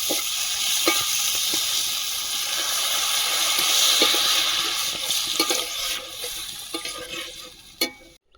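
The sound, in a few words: water added to frying spice masala, sizzling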